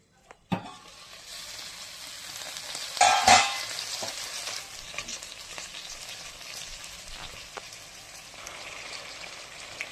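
A ground spice mixture hits a hot pan for a bitter gourd curry, starting with a sharp clatter and a burst of frying, then settling into a steady low sizzle with occasional stirring clicks.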